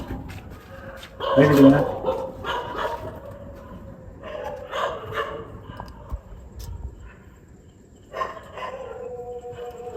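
A puppy in an apartment lets out a few short barks and yips, the loudest burst early on, while people talk nearby.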